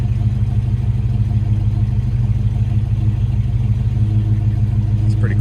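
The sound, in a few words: 1971 AMC Javelin SST engine running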